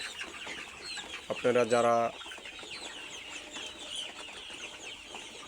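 Chickens about 52 days old on a hobby farm in Keraniganj, Dhaka, give one short, loud, tonal call lasting under a second amid steady farmyard noise, while a person talks.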